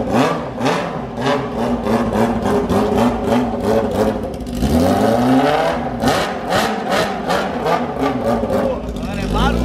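A Kawasaki Fan 600R motorcycle with a straight-pipe exhaust revs hard and loud up close, with repeated throttle blips and rising, falling engine pitch, and a long sustained rev in the middle.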